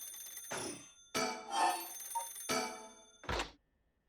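Telephone ringing in the video game Paranormasight, a set of bright, electronic ring bursts repeating several times in a steady pattern, clear and close with no talking over it.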